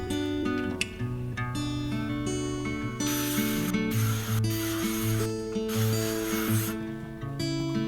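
Hairspray used while curling hair with a curling iron, heard as three broad hissing spray bursts in the middle, set over steady tonal background music.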